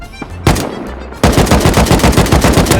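Rapid automatic rifle fire from an AK in the video game Rust, loud close bursts: a couple of single shots, then a sustained fast stream of repeated shots.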